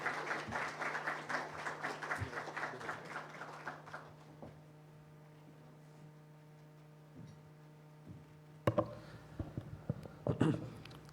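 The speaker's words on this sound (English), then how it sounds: "Please join me in welcoming Dr. 𝘍𝘍𝑒𝑙𝑒𝑥𝑎𝑙𝑒𝑥𝑎𝑙𝑒 with a warm round of applause." Audience at an AI and diplomacy talk clapping to welcome a speaker, a few seconds of moderate applause that fades out, followed by quiet room hum and a few faint knocks and handling sounds.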